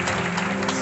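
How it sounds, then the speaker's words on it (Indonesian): A church congregation claps together at a Christmas service, producing a brief, loud, dense burst of crowd applause over a low sustained musical hum. "Tepuk tangan yang paling meriah buat Tuhan."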